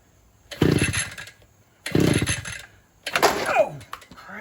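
A new Vevor TT-1E44F-5 gas string trimmer is yanked on choke three times, each pull a rising rasping burst about a second long separated by short pauses, without the engine catching.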